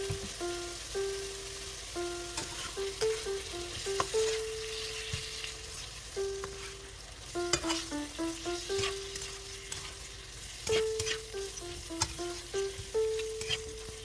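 Beef and vegetables with soy sauce sizzle and get stirred in a pan at home, a steady frying hiss with scraping strokes, heard beneath a louder melodic music track.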